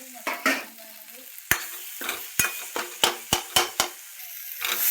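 Eggplant bharit being mixed together in a pan with turmeric and salt, a spoon scraping and knocking against the pan in quick repeated strokes over a soft sizzle, close and clear with no talk.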